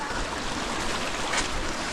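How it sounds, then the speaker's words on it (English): A waterfall in a canyon between two mountains gives a steady, broadband rushing roar of falling water, constant and fairly loud with no breaks. "Look at that waterfall!"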